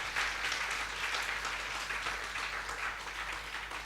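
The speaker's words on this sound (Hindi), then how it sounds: "ऐसे लोगों के लिए तालियां बनती हैं पूरी टीम के लिए" Dense audience applause at a Hindi comedy poetry show, a continuous wash of many hands clapping at steady loudness throughout.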